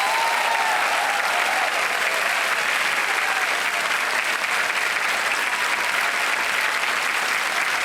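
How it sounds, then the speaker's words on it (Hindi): Studio audience on a TV quiz show applauds continuously, a dense, even wash of many hands clapping that stays loud and steady throughout without pause. "ताली बजाएं इनके"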